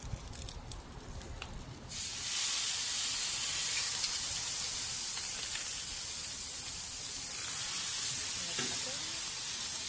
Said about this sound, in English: Okay, I'm going to put the steaks on.